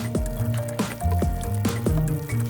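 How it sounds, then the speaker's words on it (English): Glue squishes and drips wetly as it fills a pen casing, giving a few soft squelching gulps and drops close up over a thick, continuous background of music. "Remove the parts from the pen, then fill the casing with glue."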